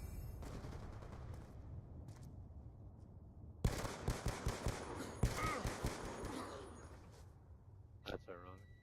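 Gunfire crackles in a video game, first as steady distant rattling, then a sudden burst of loud, rapid, close shots around the middle that fades out, with voices talking underneath.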